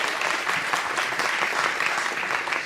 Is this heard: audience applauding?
yes